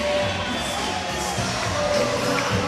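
A big crowd roars at an opening-night hockey game in the Bakersfield Condors' arena after a third-period Condors goal against Las Vegas, a dense, sustained wash of cheering and whoops that holds steady throughout.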